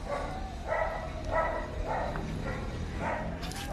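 Several dogs bark in repeated bursts at a city dog impound section in Cebu City, under a steady background din, with one or two barks coming roughly every half second.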